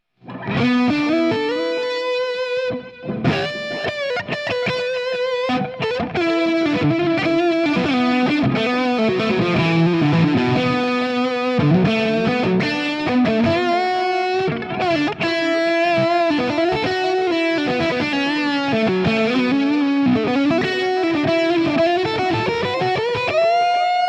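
Electric guitar playing a lead line with extra delay and mild drive, sustained notes and quick runs ringing into echoes, loud and continuous with no talking.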